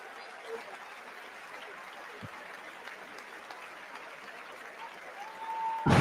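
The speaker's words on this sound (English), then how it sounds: "I think they're clapping because it's over" Steady applause from a large audience at the close of a State of the Union address, a moderate continuous wash of clapping heard from a distance, with a brief loud noise at the very end.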